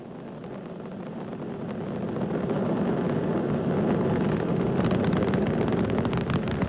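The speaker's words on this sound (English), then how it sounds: "Three engines on board Discovery now throttling back to two-thirds throttle to prepare the spacecraft to pass through the area of maximum air pressure." The three main engines of Space Shuttle Discovery roar during its 1994 launch as they throttle back to two-thirds. A deep, continuous rumble swells in loudness, then holds as a broad, rough roar heard from a distance.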